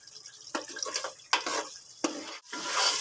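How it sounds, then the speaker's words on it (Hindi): A spoon scrapes and clacks in a pot as beef and spices are stirred and roasted for aloo gosht, giving a few sharp strokes over a soft sizzle. "अब हम इसे अच्छे से मिक्स कर हम इसकी अच्छे से मज़ीद भुनाई करेंगे"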